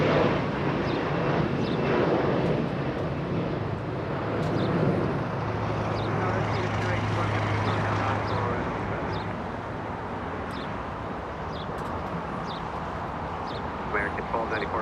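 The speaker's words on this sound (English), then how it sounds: "That is Polish Independence livery, taxiing east on Bravo" An airliner in Polish Independence livery taxiing east at Los Angeles International Airport: a broad, steady jet engine rumble and whine heard from a distance, with a person talking over it throughout.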